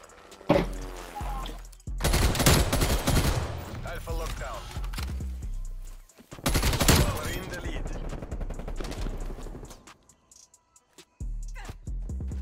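Rapid bursts of automatic fire from a sentry turret in Black Ops Cold War, two long loud volleys separated by gaps, with a player talking in between.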